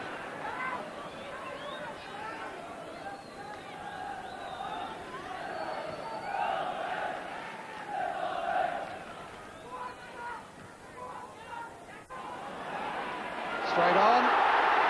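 Stadium crowd at Anfield for a 1983 Liverpool versus Nottingham Forest football match, a steady murmuring hubbub with scattered shouts throughout and a louder swell near the end.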